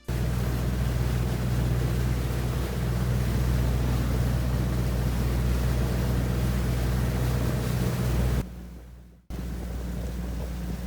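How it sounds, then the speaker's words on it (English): An outrigger canoe's engine drones steadily and loudly under rushing wind, cutting out briefly near the end before the rumble resumes. "Lisa, let's crank up the engine on this oversized canoe."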